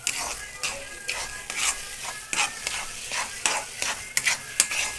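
Pav bread roasting in ghee on a hot pan alongside egg bhurji, a steady sizzle broken by repeated rhythmic scraping and stirring strokes, close and fairly loud, with no voices.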